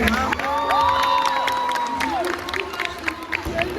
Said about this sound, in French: Est-ce qu'on peut pas les applaudir encore une fois les gars?